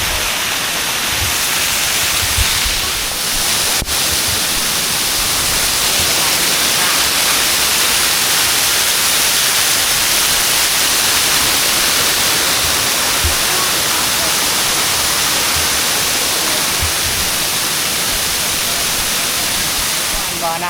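A waterfall on a mountain descent, a loud continuous broadband roar filling the whole span without pause, with faint voices underneath.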